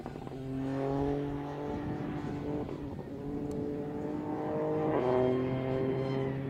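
A rally car at the Oregon Trail Rally crosses behind a spectator corner, its engine revving and swelling then fading as it passes, moderately loud and somewhat distant.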